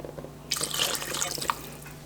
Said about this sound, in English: I'm going to add water up to the level I want my gravy